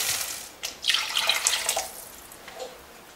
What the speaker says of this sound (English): Add around half liter of water.